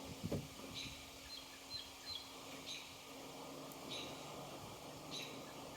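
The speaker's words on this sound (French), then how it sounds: "On a écouté les oiseaux." Birds singing outdoors: faint, distant high chirps repeat at irregular intervals over a low steady background hum, with no voices.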